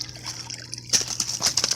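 Water trickling and splashing as it flows through a low-cost homemade bio filter box, a close, continuous sloshing flow that grows busier partway through.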